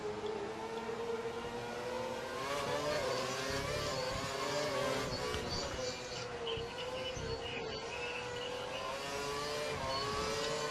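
A Formula 1 car in the F1 2012 racing game at the Hungarian Grand Prix screams at full revs, a continuous loud high-pitched engine whine with shifting harmonics over steady background rumble.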